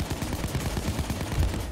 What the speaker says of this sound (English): I hear gunshots all around me